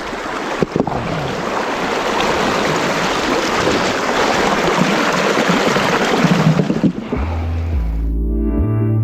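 Icy river currents rush and churn in a loud, steady roar of water, continuous for several seconds before cutting off abruptly into a short musical tone.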